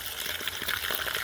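Water rushes steadily from a brand-new frost-free outdoor faucet just opened, a continuous close hiss and splash with no voices.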